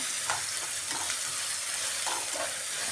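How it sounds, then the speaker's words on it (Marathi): Grated carrot hitting a hot pan of upma with peas and tomato, a continuous bright sizzle of frying with a few soft scrapes of stirring, close and loud with no talking. "ते गाजर मी यामध्ये टाकत आहे"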